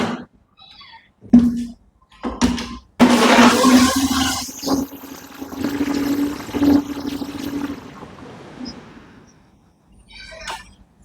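An electric blender whirs steadily for several seconds while mixing orange cake batter of sugar, oil and milk, with a few short bumps and clatters before and after.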